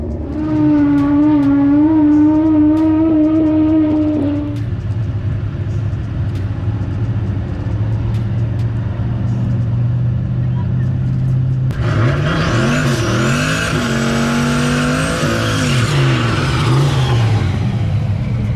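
A Mustang drag car on the dragstrip idles with a strong tonal engine drone, goes quieter, then roars into a loud, rising full-throttle launch as it makes a pass, engine note climbing through gears, close and dominant.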